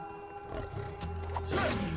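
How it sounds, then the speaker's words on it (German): Tiger roaring in the video game Far Cry 4, a short low growl that builds into a louder roar amid game ambience. "Okay, da ist ein Tiger."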